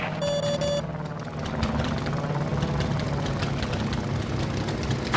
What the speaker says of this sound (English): That sub's launching fighters. I'll take care of the planes.